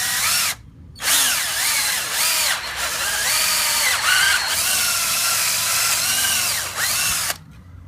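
A power drill, lubricated with cutting fluid, bores holes to mount highway pegs on a Kawasaki Concours 14 GTR 1400 motorcycle. Its loud, close whine rises and falls in pitch under load, broken by two short pauses.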